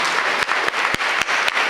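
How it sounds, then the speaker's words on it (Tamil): Audience applause at a college speech event, a steady broadband wash of many hands clapping together, fairly loud and dense throughout with no voices over it. "ஒரு கைத்தட்டல் கொடுக்கலாமா?"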